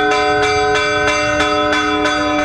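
Church bells ring in El Salvador with a steady, evenly spaced series of resonant strikes whose tones hang and overlap, clear and prominent.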